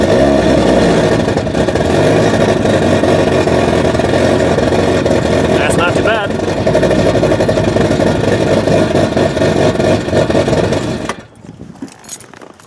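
A 2007 Hyundai Tiburon SE engine runs on E85 in a driveway, a loud, steady drone close by for about eleven seconds before it drops away sharply into near quiet.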